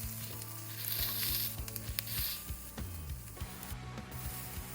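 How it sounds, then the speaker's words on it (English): Onions and shallots sizzling in a pan for a Thai holy basil stir fry, a soft steady frying crackle with occasional stirring scrapes, close and quiet, with no talking. "I'm gonna throw my onions, my shallots in there."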